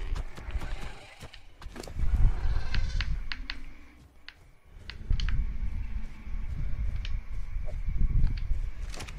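Sheep in the video game Ark bleat several times amid game ambience, with animal calls and hoof-like clatter rising and falling over roughly nine seconds.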